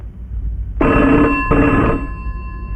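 A telephone rings twice in a film scene, a close, loud electronic bell tone with a short gap between the two rings, fading into a low background hum without talk.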